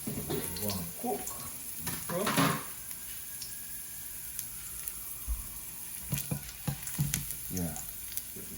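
Oxtail drops into a pot with garlic and sizzles in a low, steady fry, broken by a few clattering knocks and some scattered speech.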